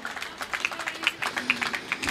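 A live audience at a Hindi comedy show claps in scattered, uneven bursts, moderately close and fairly light, with no talking over it.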